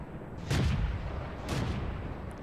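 Tank cannon shots in World of Tanks from an M3 Lee match, two heavy booming blasts about a second apart over low rumbling background noise.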